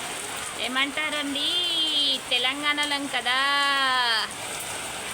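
Rain falling steadily outdoors during the rainy season in Telangana, a constant wash of patter beneath a voice speaking and singing in the foreground.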